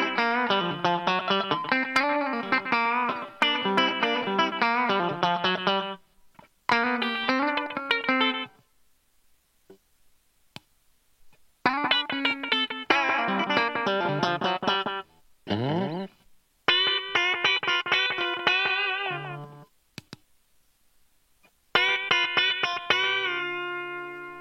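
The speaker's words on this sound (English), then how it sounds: "They both do a really good slapback." A distorted guitar played through a slapback echo pedal with its color knob raised, heard in bursts of riffs and chords separated by silent gaps, each phrase carrying a short doubled repeat.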